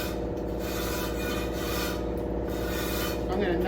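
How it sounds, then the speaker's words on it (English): An old wire brush scrubs a rusty wheel in quick, steady back-and-forth strokes, a continuous harsh rasping that stays close and fairly even over a low background hum. "So I got an old wire brush here."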